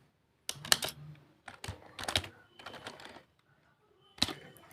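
Python code being typed on a computer keyboard in short bursts of quick clicking keystrokes separated by pauses, close and fairly quiet.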